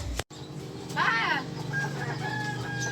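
Young roosters about three weeks old crow in a small backyard poultry pen, one strained, wavering crow rising clearly over a steady hum of farm background noise, with faint clucking around it.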